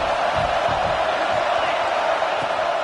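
A large stadium crowd roars steadily at a USC versus LSU college football game, a dense, sustained wall of cheering and shouting with no pauses.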